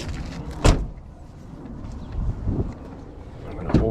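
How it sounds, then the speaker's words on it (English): Door of a 2012 Chevy Tahoe opening, with a sharp latch click near the start, a softer mechanical clunk midway and another click at the end, close up over low background rumble. "I'm gonna open the door."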